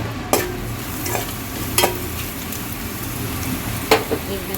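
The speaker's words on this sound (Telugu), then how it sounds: "అల్లం కొంచెం పచ్చి వాసన పోయేదాకా మనం ఫ్రై చేసుకోవాలండి." Onion, green chillies and ginger frying in a pan, a loud steady sizzle with a few sharp spatula scrapes spaced a second or two apart, no talking.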